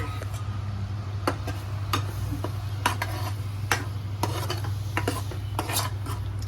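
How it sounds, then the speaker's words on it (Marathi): Ground spice paste fries in hot oil in a pan for a Khaapri pomfret fry. A steady hiss and hum runs throughout, broken by scattered light clinks of a spoon against metal, close by and with no talking. "आता याच्यात हे तेल गरम झालंय आता ह्याच्यात हे वाटण टाकून"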